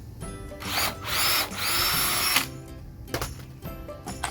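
A power drill bores a hole in a wooden board during a woodworking build, whining loudly and steadily for about two seconds under short lead-in and tail-off bursts, close by with no talking.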